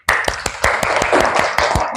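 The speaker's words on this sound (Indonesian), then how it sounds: "Tepuk tangan" A classroom of children clap their hands for a group, a brisk run of about a dozen sharp, evenly spaced claps, close and loud, with no talking.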